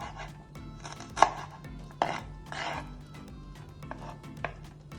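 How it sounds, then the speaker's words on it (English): A knife cuts through ginger on a cutting board in a kitchen, giving a few distinct chopping knocks spaced irregularly, with one sharper strike, heard close and fairly quiet. "I have my ginger here. I'm just going to cut it like that."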